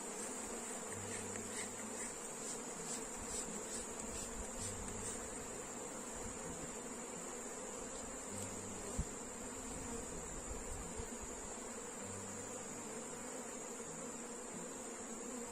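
Honeybees swarm around an open hive box rubbed with onion, a constant high droning buzz that fills the air throughout, with a few faint bumps and knocks underneath.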